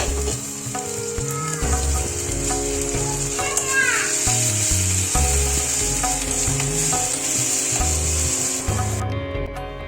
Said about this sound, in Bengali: রসুনটা একটু নেড়ে চেড়ে এবারে আদা বাটাটা দিয়ে দেবো।